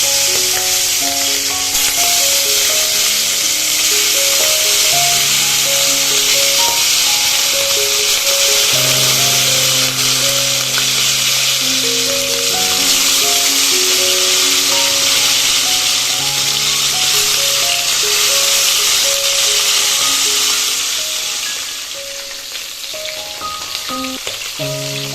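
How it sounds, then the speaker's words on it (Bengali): Snakehead fish pieces fry in a pan of hot oil, giving a loud, dense, continuous sizzle that carries on steadily for over twenty seconds before easing off slightly at the end. "তেলটা আমার গরম হয়ে গেছে। এবার মাছগুলোকে ভেজে নেব।"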